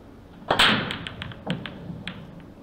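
A pool break shot in a pro cup semi-final match: a sharp crack as the cue ball slams into the rack at close range, followed by a short scatter of lighter ball clicks and knocks that fade over the next two seconds.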